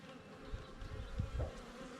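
Bees fly around a small garden, a faint soft buzzing hum with a few brief passes drifting closer against quiet background noise.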